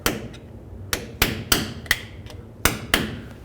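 A hammer strikes a pry bar wedged against the lock washer on a 2001-07 Toyota Sequoia inner tie rod, giving seven or eight sharp metallic blows at an uneven pace, close and clear.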